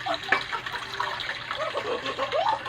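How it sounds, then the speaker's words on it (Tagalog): Water pours from a tap into a pot for instant noodles, a steady close splashing gush with bubbling and trickling that shifts in pitch as the pot fills, with no talk. "Kaya punuin na lang natin yung tubig."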